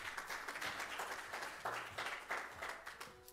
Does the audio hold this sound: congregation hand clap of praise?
yes